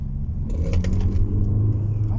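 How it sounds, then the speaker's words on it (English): A 2020 Hyundai Tucson N Sport diesel engine revs up under load with a deep, steady rumble, heard from inside the car, loud and continuous. "the engine sound is good. For a diesel, it's very good."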